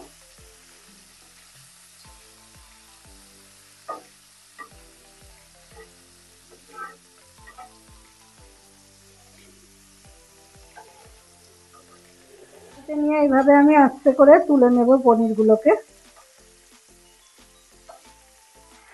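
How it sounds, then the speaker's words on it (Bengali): Paneer frying lightly in melted butter crackles faintly with scattered small pops, and a voice speaks briefly near the end. "বাটারটা মেল্ট হয়ে গেছে, এবার এই পনিরগুলোকে হালকা করে একটু ভেজে তুলে নেব"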